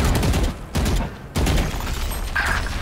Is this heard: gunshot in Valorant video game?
yes